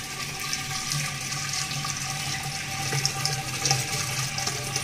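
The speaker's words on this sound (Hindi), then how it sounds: "इस तरह से अंदर पानी डालेंगे इसमें" Water poured into a new clay matka, a steady splashing and gurgling flow that continues without pause, moderately loud and close.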